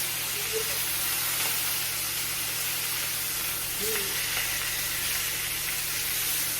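Leftover pot roast beef sizzles steadily in a hot pan as it is flipped, a continuous close hiss with a brief disturbance midway and no talk over it.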